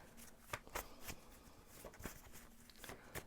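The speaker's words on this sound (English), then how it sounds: "So I'm going to shuffle and see what the cards have to say" Tarot cards are shuffled close by and quietly, giving soft, irregular riffling snaps in quick bursts, with no talking.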